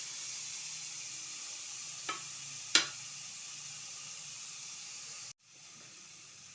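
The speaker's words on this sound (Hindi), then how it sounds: "कढ़ाई गर्म हो गई है और इसमें आंवला डाल देते हैं।" Small pieces of amla (Indian gooseberry) sizzle steadily in a hot kadhai, a constant broad frying hiss with a couple of sharp pops and a brief break near the end before it resumes.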